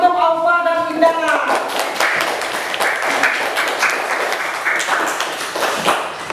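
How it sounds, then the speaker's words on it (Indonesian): Classroom applause for two students, Aufa and Indana, fills the room as steady, dense clapping from a group of pupils, continuing throughout after a brief voice at the start. "Tepuk tangan untuk Aufa dan Indana"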